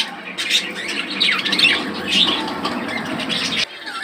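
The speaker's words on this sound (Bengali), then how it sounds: "এখানে রয়েছে আরো দুটা বার্ষিকের পাখি দেখতে পাচ্ছেন" A pair of caged budgerigars chirps and squawks busily at close range, with rapid overlapping twitters and a brief flutter of wings, then falls quiet at the very end.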